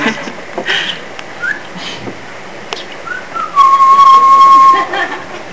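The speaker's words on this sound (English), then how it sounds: "Because they whistle." A single sustained high whistle rings out clearly near the end, following a few fainter whistled notes over a noisy background.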